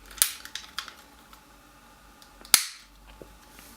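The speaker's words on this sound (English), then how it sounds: "Put in the camera." A GoPro HD Hero 3 Black Edition camera snapped into its plastic housing: two sharp, close clicks about two seconds apart, with faint handling noise between them and no talking.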